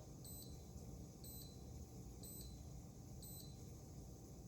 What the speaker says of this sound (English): you just heard the beeps that it's saying it's done